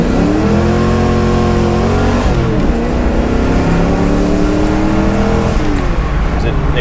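The V8 of a 1989 Ford Mustang convertible revs up hard up close, pitch climbing through gear shifts as the car accelerates, loud and throaty throughout.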